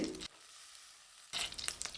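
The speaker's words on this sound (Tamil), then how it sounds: "ஒரு பெரிய வெங்காயம் இதையும் வதக்கி விட்டுக்கலாங்க" Steady sizzling of onion sautéing in a pan, with a brief quieter gap in the middle before the crackling sizzle returns.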